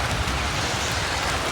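Rain falls steadily outdoors in a village, a dense, even patter of drops on surfaces heard close and continuous for the short stretch, with no voices.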